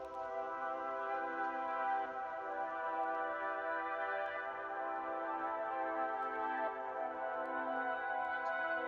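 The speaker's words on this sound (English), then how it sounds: "but I also added a third synth / pad sort of sound" A sustained synth pad from an ambient beat built in FL Studio holds a rich, steady harmonic chord throughout, smooth and even in level with no drums or voices.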